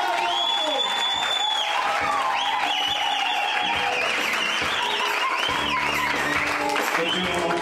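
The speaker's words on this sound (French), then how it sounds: "Est-ce qu'on peut encore acclamer très fort?" A church congregation at an anniversary service applauds and cheers loudly, with whoops and shouting voices over a constant dense roar that fills the whole stretch.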